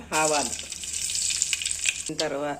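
Mustard seeds crackling and sizzling in hot oil for coconut charu, a steady frying hiss filling the pause between stretches of voice at the start and end.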